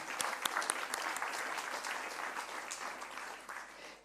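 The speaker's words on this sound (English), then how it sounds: "Nous pouvons l'applaudir." A conference audience applauding a rail infrastructure executive at a mass transit forum, faint but dense clapping that runs evenly for about four seconds with no voices on top.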